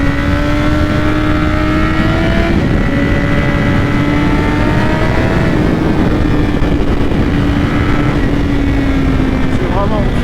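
A BMW S1000RR sport motorcycle of about 200 hp holds a steady, loud engine note whose pitch glides slowly, a continuous close roar with wind noise throughout the recording.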